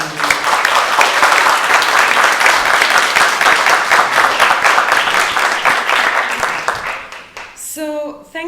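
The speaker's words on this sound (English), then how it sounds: "So a round of applause for the conveners." A tournament audience applauds the conveners at a debate final, with loud sustained clapping that fades near the end before a voice starts speaking.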